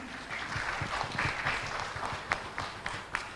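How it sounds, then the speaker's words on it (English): Applause from a conference audience at a green sustainability event, steady moderate clapping with a few louder individual claps standing out near the end. "A round of applause for that."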